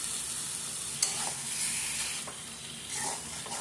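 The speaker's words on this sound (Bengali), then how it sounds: "মশলাটা কষানোর পরে আমি দিয়ে দিচ্ছি ম্যারিনেট করা চিকেন।" Marinated chicken sizzles steadily as it is stirred into fried masala for a white chicken korma, with a broad close hiss and occasional scraping stirs, and no voices.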